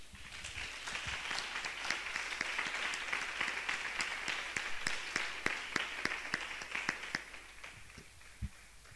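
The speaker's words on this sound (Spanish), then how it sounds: "Denle un aplauso a la palabra del Señor." Church congregation applauding after a sermon reading, a steady patter of many hands with sharper individual claps standing out, fairly quiet and tapering off near the end.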